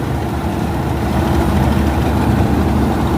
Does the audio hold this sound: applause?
no